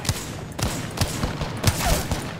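Gunfire in Apex Legends cracks in sharp, evenly spaced shots, about five loud reports over a couple of seconds amid ongoing game noise.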